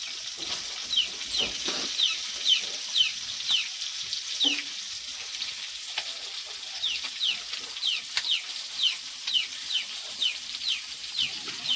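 Boi (mullet) fish frying in a pan as the pieces are flipped, giving a steady, close hiss and crackle of hot oil with small bright pops throughout and no voices.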